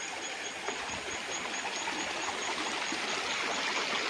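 Water rushes and burbles steadily, a continuous broadband flow of a river on a farm lot in Real, Quezon, Philippines, heard up close with no other sounds.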